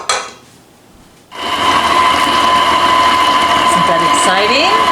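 A stand mixer whirs loudly and steadily as zucchini is mixed into chocolate chip cookie dough, a constant motor drone with a faint rhythmic churn, starting abruptly after a short quiet moment.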